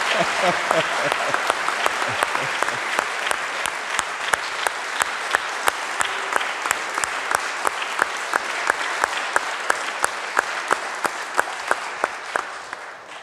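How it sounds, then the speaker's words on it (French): An Easter Vigil congregation applauds the choir in a church, a long, even wash of clapping with distinct hand claps ringing through, steady and fairly loud for the full stretch, with a few voices at the very start. "Je sais que vous allez les applaudir à la fin de la messe. On fasse maintenant"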